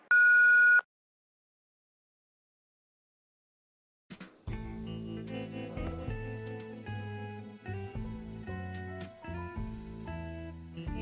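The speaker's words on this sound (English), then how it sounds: "Please leave a message after the tone." A single loud electronic answering-machine beep from the Thimbleweed Park adventure game sounds alone for under a second, followed by several seconds of silence before background music starts.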